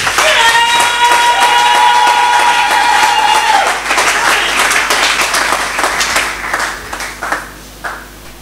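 Congregation at a church service clapping and cheering loudly, a dense burst of applause with a sustained tone early on, thinning into scattered claps toward the end.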